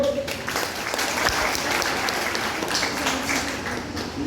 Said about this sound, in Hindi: एक जोरदार ताली बच्चे के लिए।